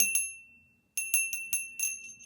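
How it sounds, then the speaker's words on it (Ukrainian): A large crystal bell is rung, once and then in a quick series of five or six strikes, each a bright, clear ring that decays quickly, close and fairly quiet, with no talking. "Він дуже-дуже в житті, дуже досить великий цей дзвоник, я скажу так."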